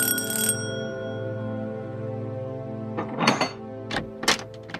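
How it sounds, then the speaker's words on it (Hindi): Doorbell ringing at home: a bright bell chime at the start with a long ringing decay, followed by a few soft knocks or thuds. "घंटी बजी है, देखें।"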